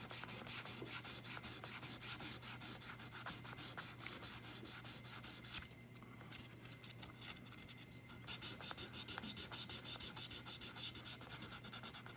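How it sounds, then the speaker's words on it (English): Sandpaper is rubbed over the sides of the frets on a Fender Stratocaster during a jumbo refret: close, rhythmic back-and-forth scratching strokes, broken by a short pause in the middle before the strokes start again. "I'll sand both sides."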